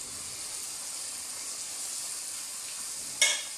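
Battered hard-boiled eggs (tokneneng) frying in oil, giving a steady bright sizzle with a brief louder crackle near the end.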